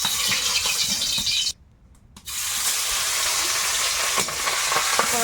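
A piece of fish, likely bhetki from a Sundarbans canal, fried in hot oil in an iron wok over a wood fire, giving a loud steady sizzle that briefly drops out midway then resumes.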